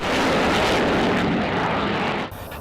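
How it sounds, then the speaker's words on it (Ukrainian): A French Mirage 2000 multirole fighter jet roars past overhead, a loud broad rushing engine noise that holds steady and then drops off sharply near the end. "багатоцільові французькі винищувачі Міраж 2005"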